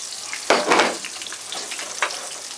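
Eel fries in olive oil in a pan, its skin crisping, with a close sizzle that swells into louder bursts of spitting at intervals, with no talking.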